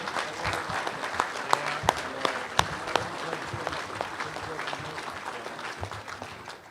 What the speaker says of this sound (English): Can we have a round of applause for these Legionnaires?